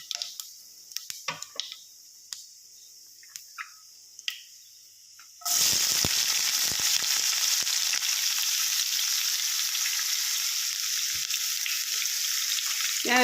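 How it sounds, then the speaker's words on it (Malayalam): Sliced onions hit hot oil with fennel seeds for a chicken parts fry: a few light clicks and taps, then a sudden loud, steady hissing sizzle that fills the rest of the clip, close and continuous. "ഇതിലേക്ക് നമുക്കിനി ഉള്ളി ഇട്ട് കൊടുക്കാം."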